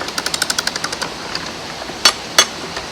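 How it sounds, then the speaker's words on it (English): The ratchet on a narrowboat lock paddle is cranked, giving a quick run of about a dozen evenly spaced metallic clicks, followed by two louder, sharper clanks close by. "This is how the ratchet works."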